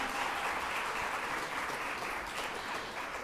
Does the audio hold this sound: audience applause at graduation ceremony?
yes